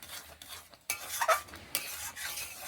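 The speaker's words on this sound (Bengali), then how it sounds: "দেখুন আমি যেভাবে কন্টিনিউ নাড়াচাড়া করছি" Raw mango pulp with sugar stirred continuously in a pan over a low flame, with bursts of thick scraping and bubbling interrupted by brief pauses, close by.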